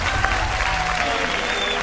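Studio audience applause on a family variety show after a knife trick, dense and steady clapping filling the whole stretch at close, loud level with a faint voice or two in the crowd.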